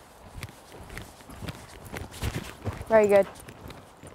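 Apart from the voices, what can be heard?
pony hooves cantering on a showjumping course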